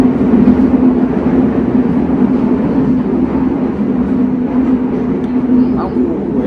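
A new Sofia metro train runs underway, heard from inside the carriage as a steady, moderately loud rumble and hum, with a person talking over the noise.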